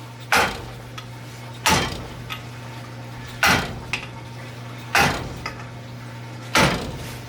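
Five sharp metallic strikes, evenly spaced about a second and a half apart, ring out as valve keepers are tapped loose on a 4.7 engine cylinder head, each hit followed by a brief ringing decay over a low steady hum.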